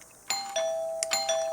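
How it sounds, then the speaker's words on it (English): A doorbell pushed twice in quick succession, each press giving a clear ringing electronic chime that holds steadily, close and fairly loud with nothing else heard. "Our doorbell. Shall I push it again?"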